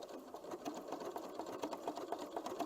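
Sewing machine running a blanket stitch for appliqué, a quiet rapid rhythmic clatter of needle strokes repeating steadily without pause.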